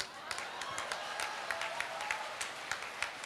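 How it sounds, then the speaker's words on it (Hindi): A crowd at a Hindi kavi sammelan, an open poetry gathering, breaks into applause, with scattered hand claps rising and falling across a few seconds under a light murmur. "सैल्यूट करता हूं जिन लोगों ने ताली बजाई, वो लोग मेरी बात समझ गए।"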